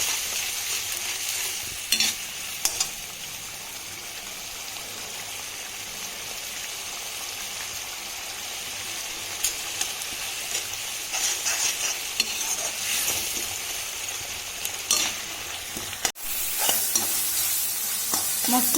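Turmeric and spices frying in oil for a pigeon meat curry, a steady close sizzle with repeated scraping and clatter of a spoon stirring the pan, no one speaking.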